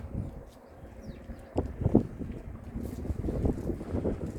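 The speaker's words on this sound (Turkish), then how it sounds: "hafif rüzgar var" Light, low, gusty wind buffets the microphone in uneven surges outdoors in a village, with faint outdoor sounds in the background.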